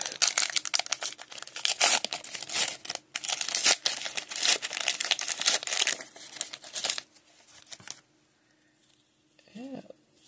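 Crinkling and tearing of the wrapper on a 15-card pack of 1992 Donruss Triple Play Premier Edition baseball cards, a dense run of close, loud crackles for about seven seconds, then quieter handling and near silence.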